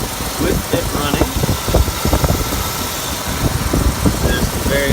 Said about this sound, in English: we're gonna have the engine bay, this section here, with it running.